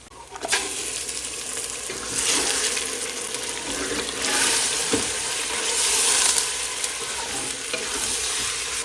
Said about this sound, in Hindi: इस टाइम पर मैं इसके अंदर गोश्त डालूंगा और फिर उसको भूनूंगा।